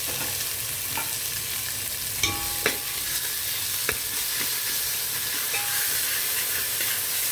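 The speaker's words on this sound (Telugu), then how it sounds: "ఇవి పచ్చివాసన పోయేదాకా వేగనిద్దామండి" Ginger garlic paste fries in a hot pan for a curry, with a steady crackling sizzle and a few sharp spatula clinks against the metal, close and continuous, with no voices.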